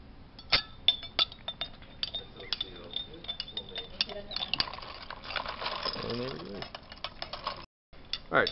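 Glassware in an organic chemistry lab as solutions are mixed in a beaker for an azo dye preparation, heard as scattered light clinks and ticks, close and fairly quiet, with people talking faintly over them.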